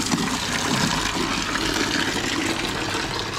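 Water drains from a koi pond filter box after its valve is opened, making a steady, rushing gush that continues evenly up close.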